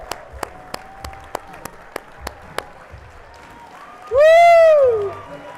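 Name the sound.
audience applause and cheering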